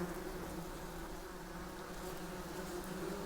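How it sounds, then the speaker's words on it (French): Wasps buzz steadily and close by in a continuous, even drone, with no voices. "Vous avez vu, on veut tuer des guêpes."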